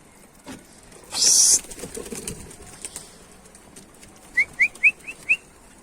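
A brief burst of wing flapping, then a quick series of five thin whistling chirps, close by in an otherwise quiet outdoor setting.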